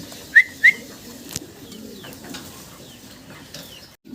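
A pair of red fancy pigeons in a loft give two short, soft whistling coos near the start. Quiet background follows, with a few faint chirps and no speech.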